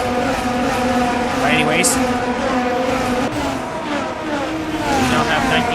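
Race cars circle the Suzuka circuit in a video game race, a steady, loud engine drone with shifting whines as the cars pass. A commentator talks over the engines throughout.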